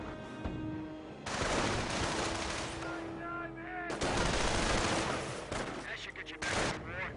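Sniper and infantry unit gunfire in a real-time strategy game, rapid bursts of shots over a dense battle din that comes and goes in loud waves, with some talk mixed in.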